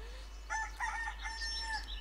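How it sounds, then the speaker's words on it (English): A cartoon rooster crows in the Sago Mini Forest Flyer game, a bright synthesized cock-a-doodle-doo with several rising and falling notes lasting about a second and a half, loud and alone. "Robin turns into a rooster."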